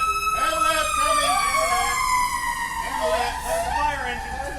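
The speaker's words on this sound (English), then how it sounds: "Hold on. Ambulance coming." Wailing emergency sirens, an ambulance and a fire engine, rise and sweep past outside a Baltimore bar, loud and continuous with repeated up-and-down cycles and a passing pitch shift.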